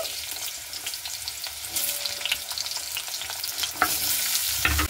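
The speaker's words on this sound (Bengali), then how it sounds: "আলুগুলোকে লাল লাল করে আমি ভেজে নেব" Potatoes fry in mustard oil in a kadai with a steady, close crackling sizzle throughout, and a few sharper pops and stirring scrapes toward the end. No one speaks.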